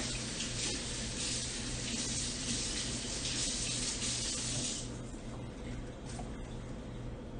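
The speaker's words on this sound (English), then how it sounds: "then I'm just gonna rinse my spatula here" Steady running tap water pours into a kitchen sink as a spatula is rinsed under it, a constant close hiss that softens slightly near the end.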